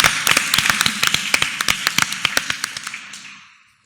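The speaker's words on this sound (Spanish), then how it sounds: "Un aplauso, ¿no?, a los protagonistas." A small group claps for the protagonists at a social innovation workshop, a sparse run of distinct, close hand claps that thins out and fades to silence after about three and a half seconds.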